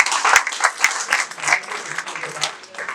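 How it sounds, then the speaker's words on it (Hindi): Audience at a Hindi poetry gathering (kavi sammelan) clapping in an uneven patter of individual claps that rises and falls, moderately loud, with a few sharper claps standing out. "अच्छी लग रही तो थोड़ी तालियां दें आप।"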